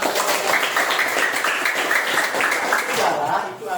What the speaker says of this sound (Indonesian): Ya, bagus, kasih tepuk tangan.